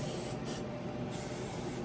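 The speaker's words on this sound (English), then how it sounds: "A little hairspray here" A continuous loud hiss of an aerosol hairspray, close up, blasting steadily with a couple of brief stutters, sprayed while installing handlebars on a 2021 Honda CRF110 pit bike.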